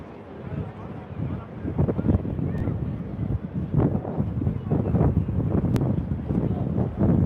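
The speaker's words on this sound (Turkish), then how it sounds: "Rüzgar başladı enteresan vaziyette." Heavy wind buffeting the microphone outside a stadium, a continuous low rumbling roar with gusty surges throughout.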